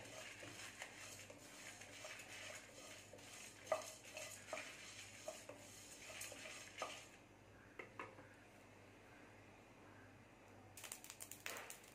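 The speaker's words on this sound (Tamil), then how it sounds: "இதுல எல்லாத்தையுமே ஒன்னாவே போட்டு லேசா ஃப்ரை பண்ணி எடுத்துக்கலாம்" Whole spices for Chettinad chicken gravy dry-fry in a pan over medium flame, with a soft continuous crackle and repeated faint scraping and tapping of a spoon stirring against the pan, quiet and close.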